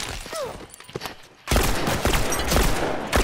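Revolver gunfire in The Last of Us multiplayer: a quieter stretch gives way to a dense, loud burst of shots and chaotic combat noise.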